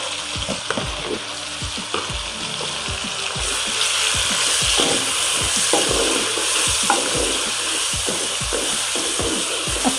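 A spoon stirring chicken and potato curry in a pot with garlic-ginger paste and whole garam masala, a steady sizzle of frying underneath repeated scraping and clinking strokes against the pot, close and continuous.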